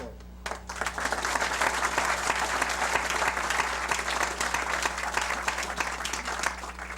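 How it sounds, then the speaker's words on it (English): A large audience applauds steadily, a dense wash of clapping that starts abruptly and holds at an even, loud level throughout. "I would like us to give a round of applause"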